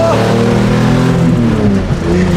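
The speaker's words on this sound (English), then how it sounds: "Rip it, Nick, rip it." A slammed Toyota Supra engine revving hard nearby, a loud rough roar that rises and holds for a couple of seconds, with voices faintly underneath.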